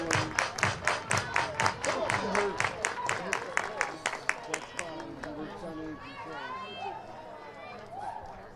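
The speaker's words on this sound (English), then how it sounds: "Everybody clap your hands." Rhythmic crowd clapping at a college softball game between Oklahoma and Utah, steady beats for about five seconds under a loud arena, then fading into crowd murmur and chatter.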